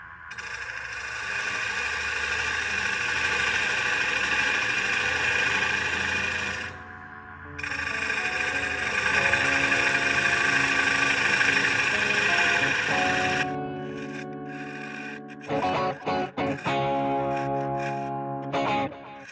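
A wood lathe spins a black walnut blank at about 800 RPM, giving a loud, steady droning whine that stops briefly partway through, then resumes with tool scraping and stuttering contact near the end.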